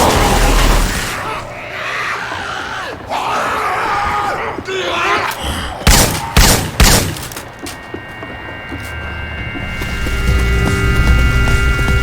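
Assault rifle fire in Left 4 Dead 2, using Syphon Filter weapon sound effects, rings out as a few loud, sharp bursts in the middle. Game ambience and distant crowd-like noise surround the shots, and a lingering hum follows.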